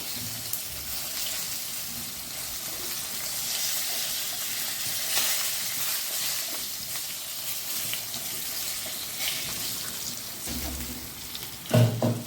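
Green chillies sizzle steadily in a hot pan with occasional stirring, a continuous bright hiss close up that ends with a louder scrape or clatter, with no one talking.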